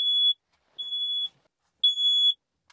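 A smoke-type fire alarm indoors, set off by a swarm of mosquitoes, sounds three loud, shrill, evenly spaced beeps separated by short silences.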